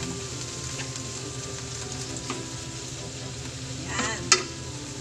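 Pork liempo with garlic sautés in a pan, a steady loud sizzle and crackle running throughout, with a brief scrape of stirring near the end.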